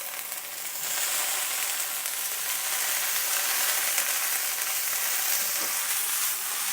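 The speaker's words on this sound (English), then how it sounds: "So let's give it a quick stir." Crispy aloo bhujia fries loudly in a pan while being stirred, a dense, bright sizzle that swells after a moment and holds steady, close by and without talk.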